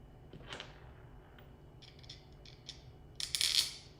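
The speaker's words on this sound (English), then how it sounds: "let's put the screws in first" Small screws are driven into 3D printer parts during assembly, heard as quiet intermittent mechanical clicks and ratcheting scrapes that build to a louder cluster of sharp rattling clicks near the end.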